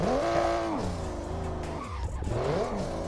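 Truck engine and tires in American Truck Simulator play loudly, a steady rumbling drone with a rising and falling tonal whine, a brief dip in the middle and then a climbing revving pitch, with no talk.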